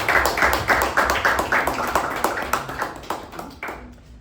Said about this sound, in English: let's give a round of applause to Mehjabin.